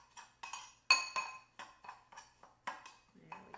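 Salt and pepper stirred together in a bowl with a utensil, making a series of sharp clinks and scrapes at an irregular rhythm, close and fairly quiet, with no voices.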